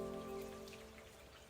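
Rain falls steadily on a foggy morning, a faint patter of drops on a surface with a low sustained tone fading beneath it.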